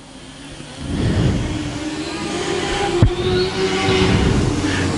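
Mod Lite race cars roar through turns three and four on the I-35 Speedway oval, a loud sustained engine drone swelling as the pack passes, with a sharp brief crack midway.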